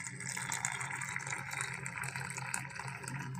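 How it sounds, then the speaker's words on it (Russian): Boiling water pours from an electric thermopot into a cup with a steady, gentle splashing stream, moderately close and continuous, with no talk over it. "Наливаем кипятка"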